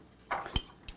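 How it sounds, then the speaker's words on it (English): A spoon clinks against a bowl as salt is stirred into white wine for stone ground mustard, giving a few quick, light taps and scrapes over a short moment. "stir it around just to make sure we dissolve the salt"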